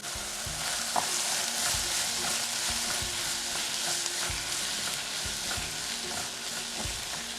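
Chopped green chilies, sliced capsicum and tomato sauté in a hot pan for a spiced lentil samosa filling, giving a steady, dense sizzle with occasional soft utensil knocks as the mix is stirred.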